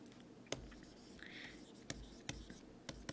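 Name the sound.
writing out notes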